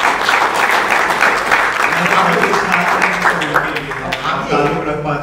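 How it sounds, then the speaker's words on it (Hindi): A poetry-event audience in a hall applauds, a dense, sustained wash of clapping with a voice speaking over it as the applause gradually thins. "तालियां बजाते रहिए"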